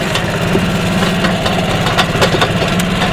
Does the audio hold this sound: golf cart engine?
yes